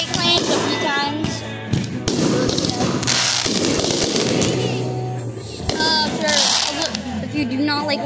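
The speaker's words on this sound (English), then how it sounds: "guys, fireworks, 4th of July" Fourth of July fireworks crackle and pop almost nonstop, loud and dense, while children and other people talk and shout throughout.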